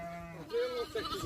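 Lambs bleat in a farm pen, giving short, wavering cries close by while someone talks over them.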